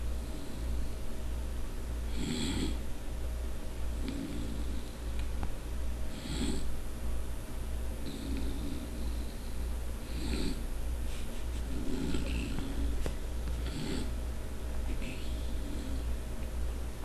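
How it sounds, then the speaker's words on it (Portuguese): A pet snores while awake with slow, rhythmic snorting breaths about every two seconds. The breaths are close and steady over a constant background hum. "só aguardando ele levantar o volume do ronco dele"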